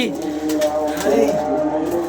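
Pigeons at a rooftop loft coo softly in a low, steady murmur, mixed in with ongoing conversation between people nearby.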